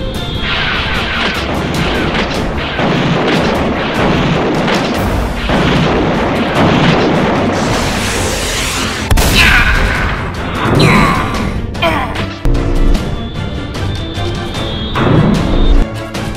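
Rocket volleys and explosions in a Japanese Spider-Man tokusatsu battle, a dense sustained barrage of loud booms and crashes for about sixteen seconds with no clear pauses.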